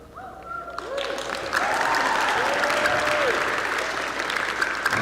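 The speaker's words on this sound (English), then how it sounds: "You can applaud enthusiastically when you are moved to." A concert audience at a Claremont Chorale and Claremont Youth Symphony Orchestra Mozart Requiem program claps enthusiastically. A few rising and falling vocal tones come first, then a full, steady round of applause swells in and holds.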